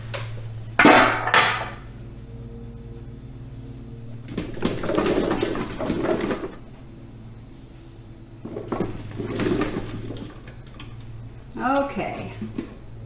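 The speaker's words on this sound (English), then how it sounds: "So I'm going to begin adding these to this stock pot" Green tomatoes dropped into a metal stock pot, several bursts of knocking and clattering against the metal with short pauses between them, over a steady low hum, with a voice talking at times.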